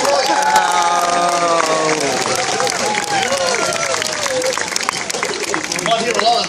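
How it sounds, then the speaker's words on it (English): Crowd applause and cheering at a seal show in Australia, welcoming a sea lion that came from a zoo in Holland. The clapping is loud and steady throughout, with high whistle-like calls and voices mixed into the din. "What about a big round of applause for Troy?"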